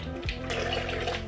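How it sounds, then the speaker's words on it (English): Water pours from a tap into a bowl on a kitchen scale while bread is being made, a short, soft rushing splash near at hand. "I'm gonna do the water first because that has to be done on a scale"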